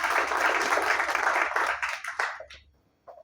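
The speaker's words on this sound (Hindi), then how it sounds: "साहब, आपकी भरपूर तालियों में" Audience applause at a ceremony held by Rescue 1122 and RSF in a housing society, a full burst of many people clapping that fades out over a couple of seconds, followed by a brief quiet and a faint trailing sound.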